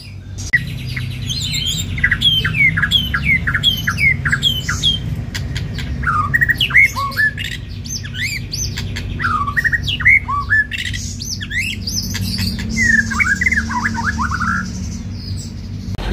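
A young magpie robin calls loudly and close by, a run of repeated squawks and sharp chirps in quick bursts with short gaps, over a low background rumble.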